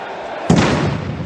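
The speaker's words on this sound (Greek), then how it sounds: "και με τα μπουμπουνιτά που ακούτε και με τις φωτιές." A single loud firecracker blast bursts inside a basketball arena during a Panathinaikos–Olympiacos game, a sharp bang followed by a ringing, echoing roar of crowd noise.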